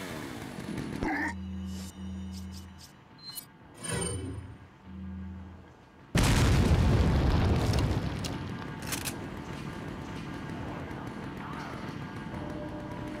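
A hand grenade explodes in Resident Evil 4 on Wii: after a few sparse clanks and thumps, a sudden loud blast hits and then rolls on in a long, rumbling decay of debris and noise.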